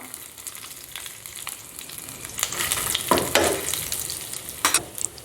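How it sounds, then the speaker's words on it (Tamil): Urad dal and dried red chillies fry in a pan with a soft steady sizzle, broken by louder scraping stirs that grow busier toward the end. "நல்லா உளுந்து விதைன்னு இருக்கும்போதே நம்ம காஞ்ச மிளகாவை போட்டுக்கலாம்"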